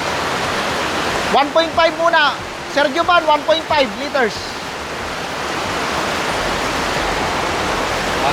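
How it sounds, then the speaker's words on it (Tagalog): Heavy rain pours down at a farm as a steady, dense roar that continues throughout, with someone talking briefly over it partway through. "Lakas ng ulan"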